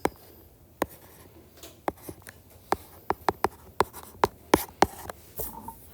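Pen or marker strokes on a writing surface during a math lesson, a string of sharp taps and short scratches in an irregular rhythm, close and fairly quiet against a faint room hum.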